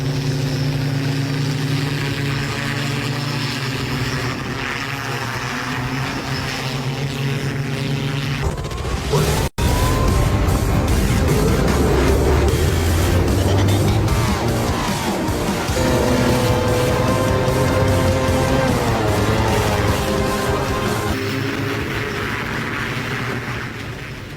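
A Dubai police flying hoverbike hovers in flight with a steady loud propeller roar, broken by a brief sharp click partway through, then continuing with shifting pitch.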